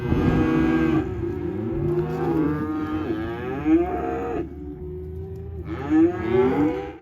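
Weaning calves bawl and moo in repeated long, drawn-out calls, loud and close, with several animals overlapping across a cattle yard.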